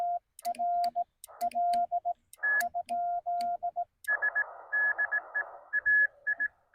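Morse code (CW) beeps come through a ham radio during an outdoor park activation, in rapid on-off tones, a second higher-pitched signal keying over a faint hiss.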